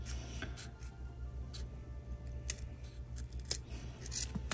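Scissors snip through fabric while a card wallet is being sewn, giving a series of close, quiet, crisp cuts over a low steady hum.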